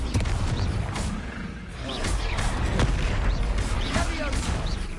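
Confringo fire blasts in Hogwarts Legacy on PS4 burst through dense, continuous combat noise: booming impacts and rumbling explosions layered over a roaring background, loud and close throughout.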